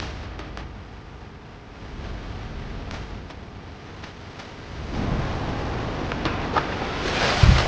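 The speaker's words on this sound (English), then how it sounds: "A group of friends is having fun at a waterfall when suddenly, whoosh, a heavy rush of water nearly sweeps them away." A heavy rush of water pours over a waterfall where a group of friends is playing, a steady broad roar that swells louder and closer partway through, with a sharp knock near the end.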